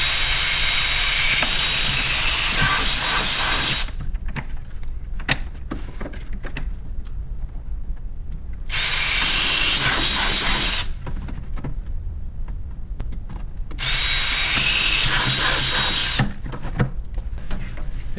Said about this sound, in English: I could drill my other 6 holes